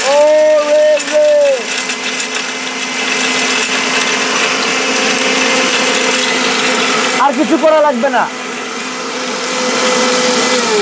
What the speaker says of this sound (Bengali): এমন এক ব্লেন্ডার, মানে হাতের স্পর্শ লাগবে না, পালস দিবেন।